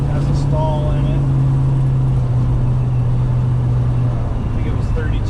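A 1967 Chevelle Custom with a stall converter in its transmission cruises along a rough road, its engine droning low and steady from inside the car while a voice talks over it.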